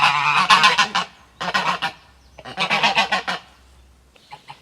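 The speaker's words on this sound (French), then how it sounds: "Donc les petites grises sont aussi des oies." Small grey geese honk loudly and close by on a self-sufficient family homestead, three clustered bursts of harsh, repeated calls separated by short pauses, then a fainter call at the end.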